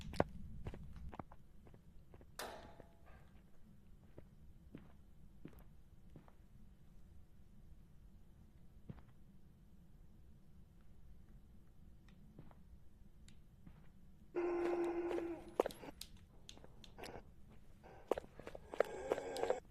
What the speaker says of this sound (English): I thought I heard another ghost footstep